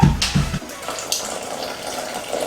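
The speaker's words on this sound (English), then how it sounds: "Pour the hot water." Hot water pours steadily into a container for making green jello, a continuous splashing trickle close by, with brief bumps at the start.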